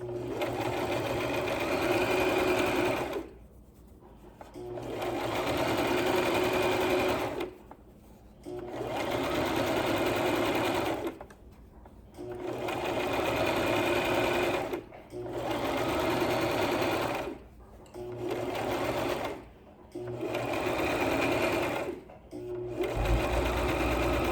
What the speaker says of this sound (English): now we're going to continue sewing, keeping the edge of our presser foot even with the edge of the fabric all the way along the entire length